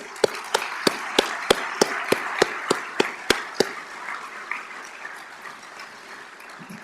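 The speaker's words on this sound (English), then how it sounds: "If you could just give them a round of applause, please." Applause from an audience at a police department graduation ceremony, opening with distinct sharp claps that build into sustained clapping and then fade off, with no talking over it.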